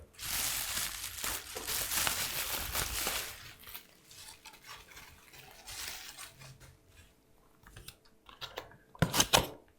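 Items from a science experiment kit for building a cloud chamber are pulled out of a plastic bag: a plastic container, a safety pin and a sample. Close crinkling and rustling of plastic come with light clicks and taps, fading to quieter handling before a final clatter.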